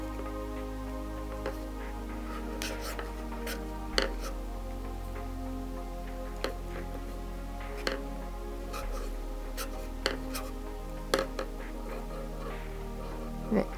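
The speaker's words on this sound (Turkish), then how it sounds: "Mecburen ördükçe sehpaya çarpıyor ve ses oluşuyor." Crochet hook knocking against a side table while a pen-shaped trim is crocheted, giving a string of sharp, light taps at irregular intervals over a low steady hum, with no talking.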